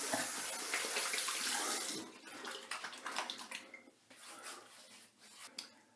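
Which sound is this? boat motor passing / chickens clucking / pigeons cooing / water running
water running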